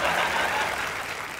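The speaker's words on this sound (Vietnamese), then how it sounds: "Một tràng pháo tay cho MC Nam còn lại của chương trình" A studio audience at a televised Vietnamese music show breaks into dense, sustained applause, a brief, even wash of clapping.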